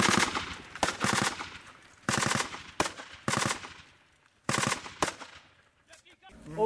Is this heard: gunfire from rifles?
yes